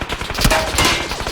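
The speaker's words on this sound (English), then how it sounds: "Oh, they're shooting the hell out of me." Gunfire in the battle royale game PUBG, a loud burst of rapid, dense cracks and booms over about a second and a half.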